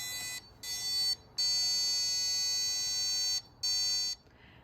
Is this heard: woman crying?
no